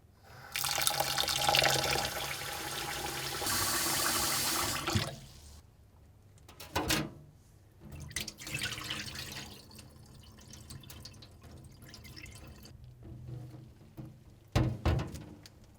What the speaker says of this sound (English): Wash the rice in a bowl.